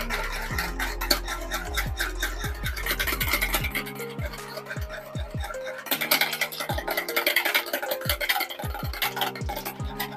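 A spoon stirs coffee into warm milk in a bowl, scraping and clinking rhythmically against the sides in quick repeated strokes, close and fairly quiet, with a pause midway.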